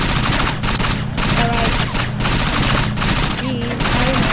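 Alien guns firing in the video game Gangsters Vegas Alien Wars, a loud continuous barrage of rapid automatic shots with brief gaps, dense and close throughout.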